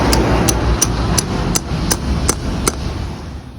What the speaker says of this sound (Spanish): Se ponen, se soportan a martillazo limpio.